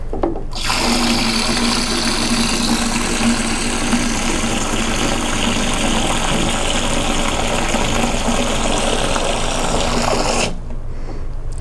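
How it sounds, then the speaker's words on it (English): Water pours in a steady, loud gush for about ten seconds into a bucket of sudsy cleaning mix, then cuts off abruptly, with no talking. "we'll go ahead and add the rest of our water"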